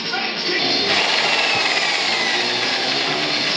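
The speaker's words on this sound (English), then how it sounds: "First drill a small hole." Power drill boring a small hole into a fibreglass rally fairing on a Honda Transalp, a steady close whine with grinding texture that runs continuously and grows slightly louder after the first second.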